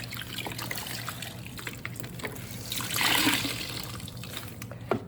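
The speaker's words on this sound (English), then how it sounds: "This has been just sitting in rinse water, so we're going to pull a piece out." Wet Rambouillet wool fleece lifted out of a tub of rinse water, with dripping and trickling water that swells into a brief pouring gush midway, close and soft.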